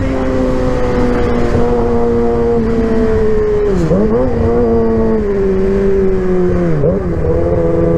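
A motorcycle engine with an aftermarket exhaust revs and drones steadily while riding through a dark tunnel into Alsancak, İzmir, with two throttle dips and blips; the loud, continuous harmonic tone stays close and runs alone without talk.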